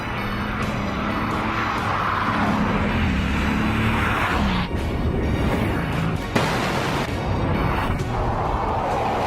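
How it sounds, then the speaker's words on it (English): Loud, continuous roar of a Bugatti Veyron supercar's engine accelerating hard, a dense sustained drone with a couple of sharp bursts and no talking. "you can actually hear the unique sound of the Veyron before you see it"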